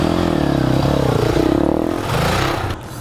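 A Yamaha TTR 250 rides off-road with a loud, close, steady engine drone and rattly clatter, dipping briefly and holding on through the short stretch.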